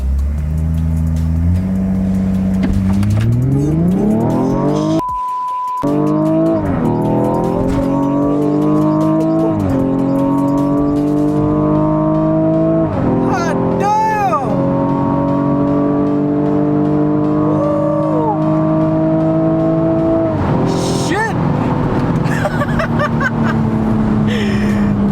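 A Stage 1 BMW M135i accelerates hard on a quarter-mile run, the engine note climbing steadily through several gears with brief dips at each shift, loud and close from inside the car, with voices occasionally audible over it.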